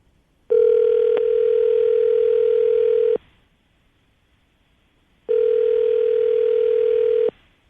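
Telephone ringback tones sound for a morning radio show call: two long steady electronic purrs about three and two seconds long, separated by a silent gap, loud and close.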